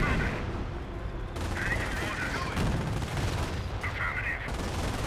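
Panzer IV tank fire in a Company of Heroes battle, heavy booming shots over a dense backdrop of gunfire and explosions, with a commentator's voice talking under the din.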